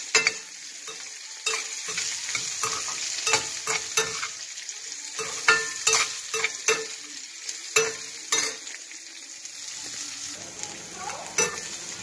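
Onion, ginger, garlic, fennel and cinnamon sautéing in a pan, a loud close sizzle broken by repeated spoon scrapes and knocks against the metal, no voices.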